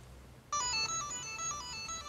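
A ringtone from an LROTV rugged phone sounds after a short pause: a bright, insistent melodic ring that repeats loudly and close, alone with no talking.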